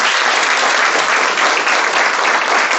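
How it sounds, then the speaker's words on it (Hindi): A crowd bursts into loud, dense, continuous applause, an unbroken roar of many hands clapping at once with no gaps from start to finish. "तो एक बार तालियों से स्वागत करें"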